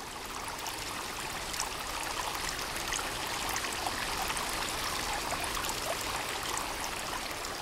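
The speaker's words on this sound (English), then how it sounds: "Ah, there's the water." Flowing stream water at night in Sons of the Forest played in VR, a steady hissing trickle and babble that holds constant throughout, with no talk.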